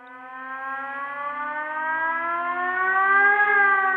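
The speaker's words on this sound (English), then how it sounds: "the people of Rock Valley were woken up by a tornado siren" A tornado warning siren in Rock Valley, Iowa wails in a steady, slowly rising tone, loud and sustained with no voices over it.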